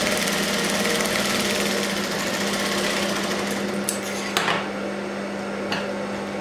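An electric sewing machine stitches a cover seam along the corners of a blouse. It runs as a steady, close, rapid mechanical hum, and a few brief clicks and handling noises come toward the end.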